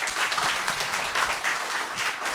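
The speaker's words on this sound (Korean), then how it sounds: "우리 다시 한번 격려의 박수 드리겠습니다." Church congregation applauding in a sanctuary, a sustained burst of many hands clapping that stays fairly even for a couple of seconds.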